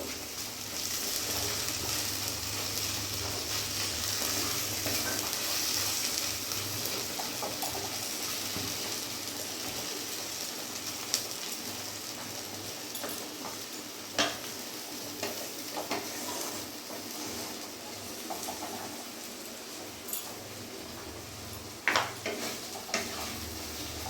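Boiled kochur loti (taro stolons) fry in a pan for a vegetarian dish made without onion or garlic. A long, even sizzle runs throughout, with scattered clicks and scrapes from stirring and no voices.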